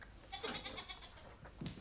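A goat kid bleats in short, repeated wavering cries on a mountain farm, nearby and fairly loud, with a final bleat after a brief pause.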